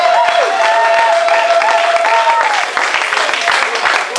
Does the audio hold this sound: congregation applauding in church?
yes